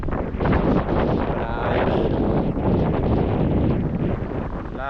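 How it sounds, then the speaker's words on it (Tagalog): Strong northeast monsoon wind blowing by the sea on an island, buffeting the microphone with loud, rough, continuous gusts, and a voice briefly audible beneath it. "Lakas ng amihan mga tayo."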